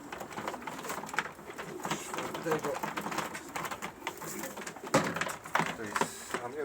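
Domestic pigeons from a breeding loft coo softly in the background while someone talks over them, their low throaty calls coming and going under the speech.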